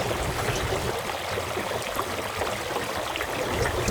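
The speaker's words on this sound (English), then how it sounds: "it's good to hear the sound of rippling water." Rippling water running under a small sailing dinghy moving slowly on a lake, a continuous close wash and trickle of constant loudness with no voices.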